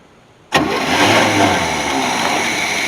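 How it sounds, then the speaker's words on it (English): A Chevy C30 Squarebody truck engine, long neglected and under revival, catches abruptly from near silence and settles into a loud, steady, rough idle, close up and with no voices. "Now we got spark, and it's running."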